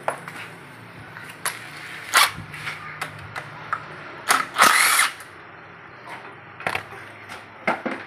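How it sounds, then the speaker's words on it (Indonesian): Short bursts from a power tool loosening oil pan bolts on a motorcycle, with several sharp whirring pulses of varying length spread across a steady low background hum, close by. "Ini kita buka dulu baut karter penampungan olimetik."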